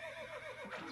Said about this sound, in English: The horse noise as well.